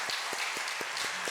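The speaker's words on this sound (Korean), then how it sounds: "다시 한번 우리 여전도의 찬양대 박수로 축복하겠습니다" A church congregation claps in blessing for the women's choir during an afternoon service, a short stretch of applause with a few rhythmic, evenly spaced heavier claps standing out.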